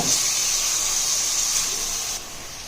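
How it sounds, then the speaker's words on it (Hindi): Ginger garlic paste frying with minced keema, a steady close hiss of sizzling that drops slightly near the end. "अब हम इसमें अदरक लहसुन का पेस्ट ऐड करेंगे और फिर से इसे मिक्स करके इसकी भुनाई करेंगे।"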